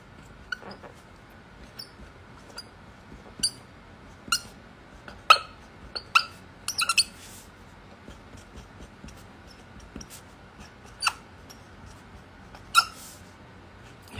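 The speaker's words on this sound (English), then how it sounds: "Hear the squeaks?" Scattered short, sharp squeaks, some single and some in quick clusters, spaced irregularly over a quiet room background with no talking.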